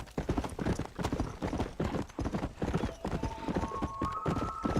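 Horse hooves from riding in Red Dead Redemption clop in a fast, steady rhythm, close and loud, with a brief neigh or whinny near the end.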